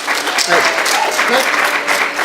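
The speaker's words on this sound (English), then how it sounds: "Round of applause for Mike" An audience at a canine training seminar gives a volunteer named Mike a round of applause. The dense, lively clapping from many hands stays steady and fairly loud for a couple of seconds.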